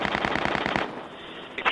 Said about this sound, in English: Come on, fire!